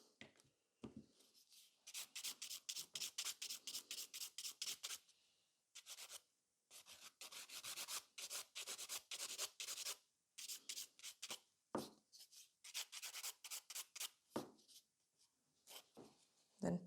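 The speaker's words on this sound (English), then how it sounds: "Then take the buffer and just buff it away." A hand buffer rubs back and forth over a fiber gel nail in quick rhythmic bursts of fine scratchy strokes, close and soft, pausing briefly between sets.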